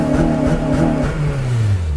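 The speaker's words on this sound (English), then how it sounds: "the driver punches a satisfying round start button to ignite the throbbing engine into life" The engine of a 2007-2011 Honda Civic Type R fires up and revs close by, a loud, throbbing hum that rises then sweeps downward as it settles.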